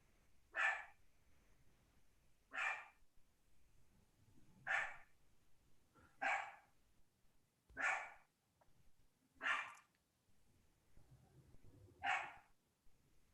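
A dog barks faintly in the background during an online zoning board meeting, seven single barks spaced about every one and a half to two seconds, with low room noise between.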